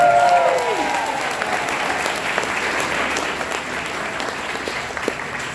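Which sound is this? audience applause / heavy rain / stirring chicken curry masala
audience applause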